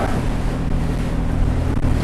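A three-hulled trimaran littoral combat ship, driven by water jets off gas turbine or diesel engines, passing in San Diego harbor: a steady broad wash of water and engine rumble with wind buffeting the microphone.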